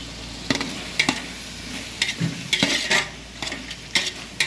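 Tomatoes and green chillies sauté in a large pot for mutton dum biryani, a soft sizzle under repeated loud metallic scrapes and clanks of a ladle stirring, the strokes coming roughly every half second to second.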